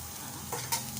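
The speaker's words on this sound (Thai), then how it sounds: "กระทะยังร้อนอยู่ เราก็ใส่ถั่วงอกไปเลย" Bean sprouts sizzle steadily in a hot pan with a couple of brief stirring scrapes.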